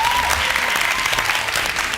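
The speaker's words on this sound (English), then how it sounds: "A round of applause." An audience applauds the leaders at the finale of a South African reality competition show, a loud, continuous burst of clapping sustained throughout with no break.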